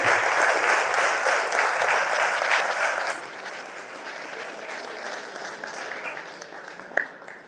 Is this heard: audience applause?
yes